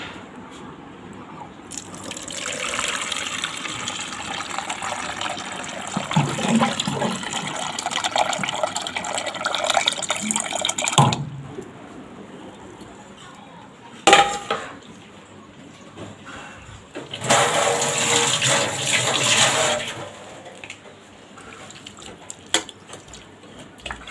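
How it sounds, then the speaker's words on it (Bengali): Water is poured over cooked rice in a pot, with long gushing fills broken by pauses and a sharp clank of the pot or lid, close and steady, with no talking heard. "আর এখানে কিছুটা ভাত আছে, ভাতগুলো জল দিয়ে রাখবো।"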